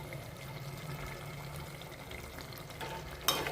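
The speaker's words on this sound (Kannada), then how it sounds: "ಮಸ್ತಾಗಿ ಕುದಿಯಕತ್ತೈತಿ ನೋಡ್ರಿ. ಎಣ್ಣೆ ಎಲ್ಲ ಮ್ಯಾಗ ತೇಲ್ ಬರಕತ್ತೈತಿ." Gravy simmering in a pan with oil rising to the surface, a steady soft bubbling and sizzling hiss throughout, ending with a brief louder scrape or stir.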